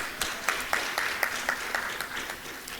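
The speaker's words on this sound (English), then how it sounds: "Could we give them a round of applause?" A conference audience claps for a performing group at ACHEA 2019, steady rhythmic applause with distinct individual claps repeating evenly through the whole stretch.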